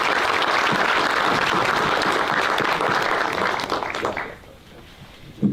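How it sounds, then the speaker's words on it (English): An audience at a Board of Education public session gives a round of applause, loud and continuous for about four seconds before thinning out and fading to quiet room tone. "they deserve a big round of applause"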